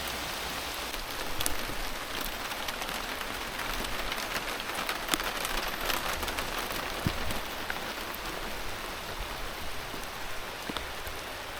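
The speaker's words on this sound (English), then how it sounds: "I think it's going to be a quick rain" Rain falls steadily outdoors at a fruit orchard, a dense even hiss of drops striking surfaces with occasional sharper patters, constant and moderately loud, with no talking.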